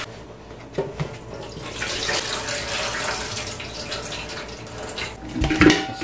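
Tap water runs steadily over cow's foot meat as it is rinsed a second time in a kitchen sink, a continuous close splashing rush with a few small knocks near the start and a louder splash near the end.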